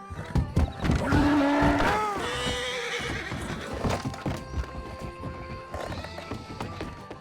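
A horse ridden in Red Dead Redemption 2, its hooves clip-clopping in steady rhythm with a loud whinny near the start and softer snorts afterward, with no talk.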